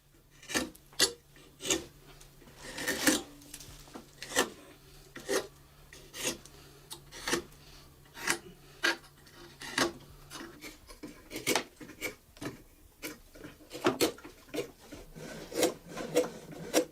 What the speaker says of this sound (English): he shortens the teeth to the same length and sharpens them at the same time